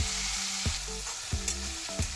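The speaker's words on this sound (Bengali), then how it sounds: "ভাজা হলে একটা বড় টমেটো দিলাম। টমেটো নরম হওয়া পর্যন্ত ভাজবো।" Tomato frying in oil with ginger paste and green chillies for festive bhog khichuri crackles up close, broken by several soft thuds and scrapes of stirring.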